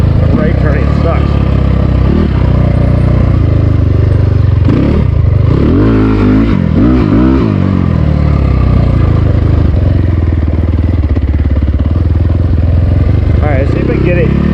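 A small SSR 300 pit bike engine drones and revs continuously as the rider works through turns, with sharper throttle bursts in the middle while a person talks over the engine noise.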